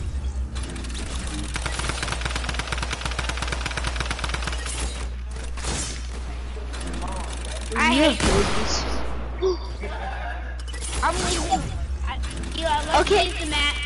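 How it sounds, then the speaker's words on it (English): Rapid automatic gunfire from a video game shootout rattles on continuously under people talking and reacting, with a few heavier bursts and impacts standing out partway through. "No, I was shooting you, and now you're shooting me."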